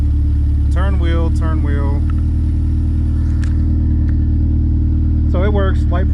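A K-swapped car's engine idles with a loud, steady low drone while the power steering is turned. Someone talks over it in short bursts.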